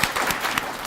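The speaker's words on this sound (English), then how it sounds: "So I just want to give you a round of applause." An audience applauds at a winter awards benefit, a short burst of dense clapping from a crowd filling the whole moment at steady loudness.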